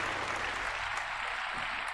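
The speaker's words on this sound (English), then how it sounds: "I'll give you a big round of applause" Applause on a paranormal and supernatural open-line show, a steady broadband wash lasting the whole short stretch at low level, with no talk over it.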